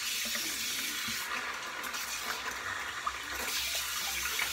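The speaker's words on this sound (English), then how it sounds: "I'm gonna go ahead, wet the brush down, and get it loaded real quick." Steady running water from a tap wets a shaving brush, a continuous hiss and splash at moderate, even level, heard alone without talk.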